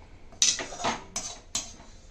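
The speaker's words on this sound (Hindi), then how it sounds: "बर्तन में हम ट्रांसफ़र कर रहे हैं" Metal utensils clatter against a vessel as cutlet mixture is transferred: three or four sharp clanks and scrapes close to the microphone, with no talk.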